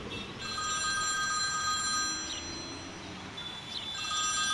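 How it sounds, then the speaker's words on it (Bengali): An old-style telephone bell rings in a steady, continuous trill, sounding slightly distant as if from the next room, used as an audiobook sound effect, with no voices over it. "এমন সময় পাশের ঘরে টেলিফোন বেজে উঠল।"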